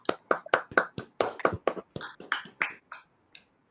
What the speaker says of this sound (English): give all the speakers, all the winners, a good round of applause